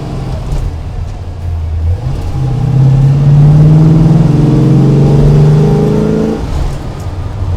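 A big-block V8 in a 1963 Ford Galaxie 500XL rumbles, then revs up and holds a higher, throaty pitch for several seconds before dropping back to idle.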